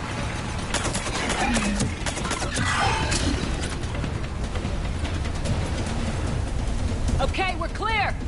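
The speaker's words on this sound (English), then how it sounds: "Commander, I've got enemy contact. Under fire." Gunfire and crashing combat noise from the video game Mass Effect 3, a dense, continuous barrage of shots and impacts running throughout, with voices calling out over the fighting.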